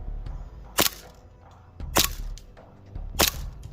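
A WE airsoft Desert Eagle pistol fires three sharp cracking shots through a chronograph, evenly spaced about a second apart, each one loud and close against a low background hum.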